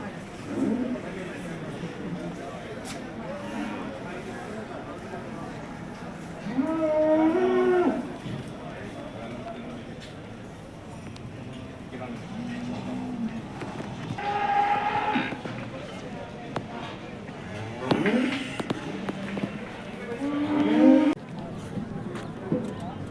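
HF and Jersey cows and calves at a large cattle fair give several loud, drawn-out moos spread through the clip, over steady crowd noise and people talking.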